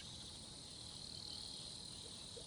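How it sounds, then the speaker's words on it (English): Cicadas in the Nostalgic Train video game, a dense, unbroken high-pitched chorus droning evenly throughout, fairly close and steady with no other sounds. "the unchanging chorus of the cicadas"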